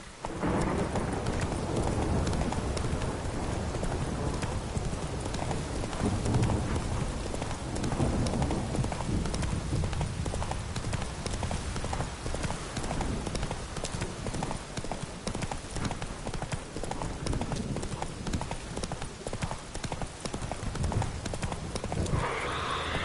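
Hooves of Roach, the horse in The Witcher 3, clop steadily at a gallop over a continuous loud wash of rain and wind, with a faint neigh and brief voice in the background.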